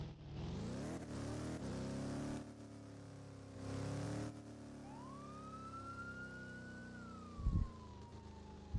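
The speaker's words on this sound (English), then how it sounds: "That's a cop car, right there." Police car siren in the Roblox game ER:LC, a single rising-then-falling wail sweeping in from about halfway through, moderately loud over a steady rumble of engine and game noise, with a short thump near the end.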